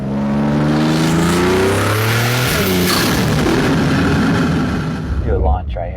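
A BMW M240i revs hard on a launch, the exhaust climbing in pitch through rising gears with a loud, close roar that falls off near the end, a voice partly audible under it.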